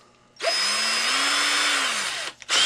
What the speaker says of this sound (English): you're gonna make little bitty drill holes up under that lip